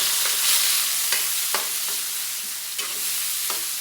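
Onion and garlic sauté in hot oil in a pan for spicy adobo fried rice, a steady bright sizzle with occasional stirring scrapes and clicks, close and continuous.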